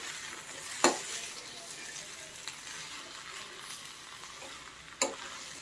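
Vegetables for a Bhogi mixed-vegetable dish sizzle steadily in a pan while being stirred, with two sharp clanks of the spoon against the pan standing out over the continuous frying hiss.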